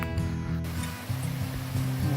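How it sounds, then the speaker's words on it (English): Water pouring at Mountaineer Falls along a river, a steady broadband rushing roar heard close and loud, continuous for the whole moment with some wind-like buffeting. "Mountaineer Falls."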